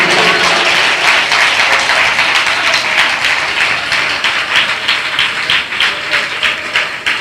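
A worship congregation claps loudly and fast, producing a dense, close roar of applause. It gradually settles into more distinct rhythmic claps toward the end, with no voices above it.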